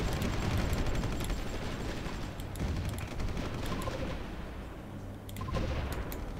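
Artillery barrage in the Supreme Ruler 2030 strategy game, a dense, continuous rumble of booming shots and crackling impacts that stays loud throughout with no talking.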